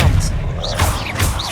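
An Expelliarmus disarming spell fires during Hogwarts Legacy combat, a brief loud volley of swooshing bolts and thumping impacts, with a voice shouting over the effects.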